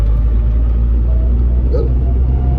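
A truck engine idles low and steady as the clutch is eased out halfway, giving a continuous close rumble with no sharp revving, heard alone.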